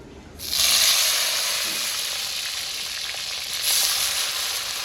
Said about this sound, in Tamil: அரை கிலோ சின்ன வெங்காயத்தை போட்டுக்கலாங்க எண்ணெயில்